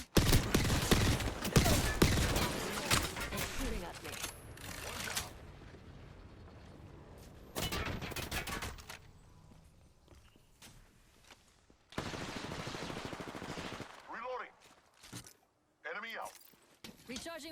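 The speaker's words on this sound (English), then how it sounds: "It's shooting at me." Enemy gunfire in a shooter video game, loud bursts of rapid automatic fire at the start, then scattered sharp volleys and shots separated by quieter gaps.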